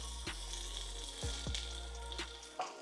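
Cut okra fries in hot oil in a pan, giving a steady close sizzle with a few sharper crackles and pops spread across the short stretch, with no talking.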